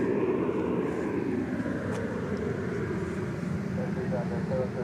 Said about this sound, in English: That is Alaska Flight 909, a MAX 9 going to Seattle.